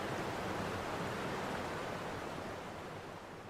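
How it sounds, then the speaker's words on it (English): Wufengqi waterfall on the Matcha Mountain hiking trail in Taiwan, heard as a steady, dense roar of cascading water, broadband and unbroken for the whole stretch with no voices over it. "See that? That's Wufengqi waterfall."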